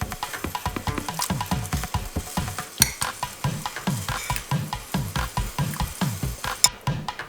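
Fish with green mango stirring in a pan for fish curry, rhythmic scraping strokes of a utensil repeating about twice a second over a steady sizzle, close and alone.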